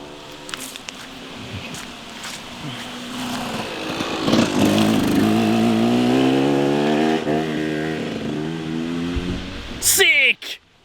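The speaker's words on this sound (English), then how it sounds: "Sick KTM, bro." A KTM motorcycle riding past on a military training ground, its engine whine climbing and building over several seconds before fading, with someone talking quietly beforehand.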